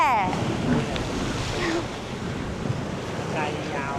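Sea surf rolling onto Cha-am beach in Thailand on a weekday, a steady wash of waves with gusty wind on the microphone, close and continuous, with faint voices in the background.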